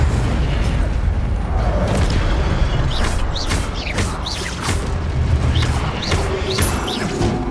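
Fiery Incendio spell blasts boom and crackle in Hogwarts Legacy, loud bursts with rushing flame noise and a few sharp magical whooshes repeating through a dense, continuous battle din.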